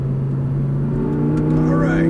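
An Audi R8 sports car engine drones loudly and steadily on a track as the driver rolls onto the accelerator, the pitch rising slightly toward the end while a voice talks over it.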